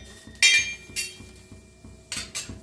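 Roasted green chillies, both hot and mild, being pounded for thecha: a steady run of soft low thuds, with several sharp metallic clinks ringing out on top, close by and with no talking.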